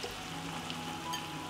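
Meat fries in a pan with already softened onion, producing a faint, continuous sizzle with a quiet stir or two and no voices.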